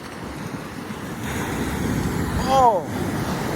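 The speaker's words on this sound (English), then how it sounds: "Look at the waves, man." Big ocean waves crash and roar in a continuous broad surf wash with wind noise, swelling louder near the end, and a voice cries out briefly over the surf.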